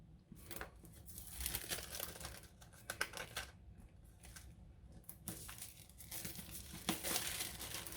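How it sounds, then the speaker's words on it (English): Plastic wrap is pulled and crinkled off the box of a Xiaomi Redmi Note 9 Pro phone, close and fairly quiet, made of irregular rustling bursts and crackles with no talking. "So with the plastic off, let's chuck that aside."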